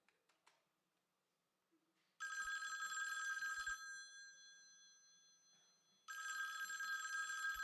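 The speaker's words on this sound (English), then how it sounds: "Should I be hearing a ring?" A telephone bell rings in two bursts, the first lasting about a second and a half and fading slowly, the second starting after a pause, both loud and clear over a quiet room with a few faint clicks before.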